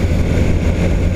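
A four-cylinder BMW S1000 R motorcycle engine runs with a loud, steady, close rumble throughout this short stretch.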